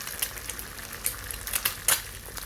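An egg fries sunny side up in hot oil, a steady close sizzle with sharp spattering pops scattered through it, the loudest burst near the end.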